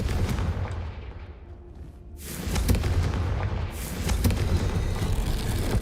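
A Confringo fire spell bursts in Hogwarts Legacy, a loud booming blast that erupts after a quieter moment, followed by sharp cracks and a lingering rumbling roar of the explosion, with no talking.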